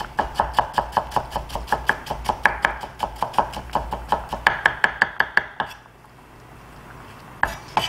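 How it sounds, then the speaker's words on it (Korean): A kitchen knife minces sliced onion on a board in fast, even strokes, about twenty crisp chops in a row, then a pause and one final chop, close and clear. "채썬 양파는 다집니다."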